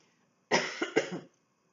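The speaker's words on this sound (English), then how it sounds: "Why am I coughing all of a sudden?" A single burst of harsh coughing, two or three quick hacks in a row, close up against silence.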